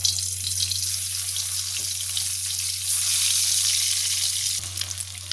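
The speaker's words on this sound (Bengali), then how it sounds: "ডিমগুলি এবার ভেজে নেব।" Eggs frying in a pan make a bright, steady hiss with soft spitting. The sound is close and even, with a low hum under it and a brief clatter near the end.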